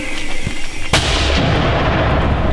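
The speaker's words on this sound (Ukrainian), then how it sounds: "Міномет. Постріл." A single loud, sharp mortar launch thump cracks out about a second in, followed by a rumbling, echoing tail over steady background noise, fired by border guards in the Serebrianskyi forest.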